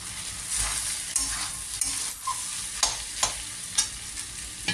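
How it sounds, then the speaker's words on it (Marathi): A spoon scrapes and stirs soaked sabudana into cooked potatoes in a pan, making a soft sizzling bed broken by a series of distinct knocks and scrapes, fairly close. "आपण साबुदाणा छान मिक्स करून घेतलेला आहे"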